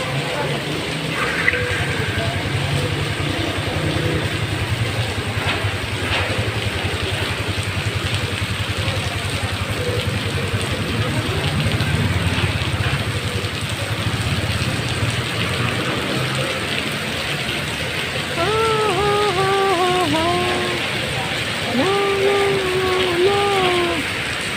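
Steady rain falling outdoors near Gateway Cubao, a continuous hiss on surfaces, with voices and tonal calls or whistles mixed in toward the end.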